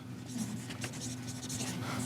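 Chalk or pen writing pseudocode on a board, a soft continuous scratchy stroking under faint background hum, quiet and close.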